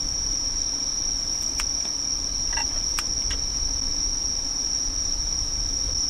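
Insects shrill at a rainy night campsite, a steady high-pitched cicada-like drone running unbroken throughout, with a few faint clicks and taps over it and no talking.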